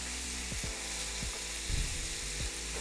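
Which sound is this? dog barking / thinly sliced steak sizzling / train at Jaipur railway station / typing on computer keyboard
thinly sliced steak sizzling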